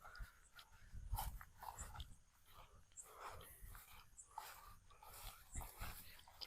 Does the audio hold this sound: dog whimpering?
yes